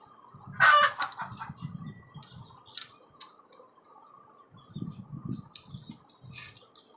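Desi chickens in a rooftop cage farm, a loud close cackle followed by repeated low clucking in bursts, with a brief crow-like call and quiet pauses between.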